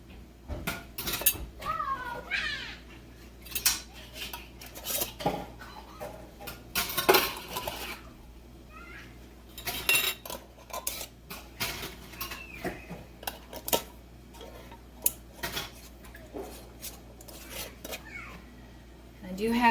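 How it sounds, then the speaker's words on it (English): Metal canning jar lids clink and rattle as they are handled in a home kitchen, giving irregular close clatters and taps alongside a person talking, with a cat meowing now and then. "now I am just bringing over my lids"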